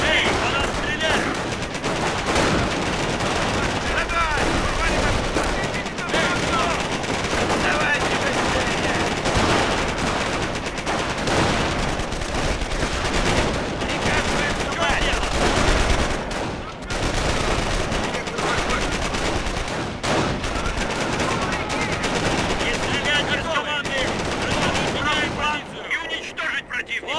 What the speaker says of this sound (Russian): По нас стреляют!